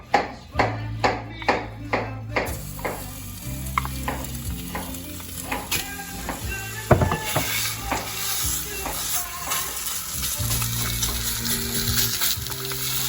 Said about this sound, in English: why don't you get the sausage going on the pot?